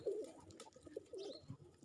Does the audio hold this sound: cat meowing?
no